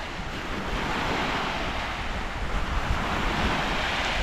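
Storm-churned waves surge at the shore in Katmai National Park near Brooks Camp, a loud, unbroken roar of surf mixed with heavy wind buffeting the microphone.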